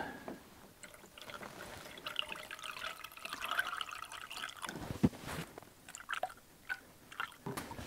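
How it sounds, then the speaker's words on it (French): Coolant poured into the reservoir of a Renault Twingo, a soft gurgling, trickling flow with faint drips and small sloshes, close and quiet, punctuated by a few light knocks. "je remets du liquide de refroidissement"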